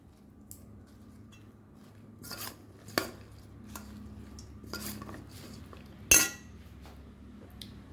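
Greens are tossed into a bowl of chicken salad, giving faint scattered clinks and scrapes of a utensil against the dish, with one sharper knock near the end and no talking.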